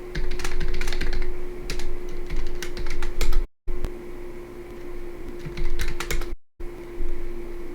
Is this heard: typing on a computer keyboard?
yes